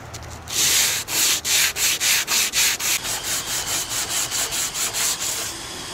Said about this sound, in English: this has to be sanded more until this edge here is gone and we have just a straight edge of the fiberglass